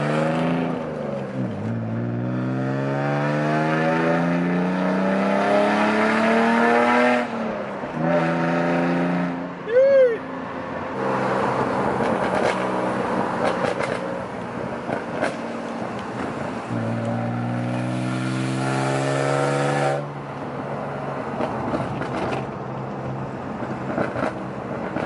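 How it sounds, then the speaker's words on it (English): A BMW E46 accelerates while driving, its engine rising through the gears, with a brief sharp exhaust pop midway and a steady cabin drone, no speech heard. "I don't know if you can hear this pops, but it pops, guys."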